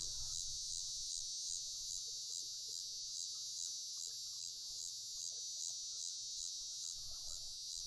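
A dense, steady insect drone fills the air, a continuous high buzzing with a faint pulsing rhythm and no voices.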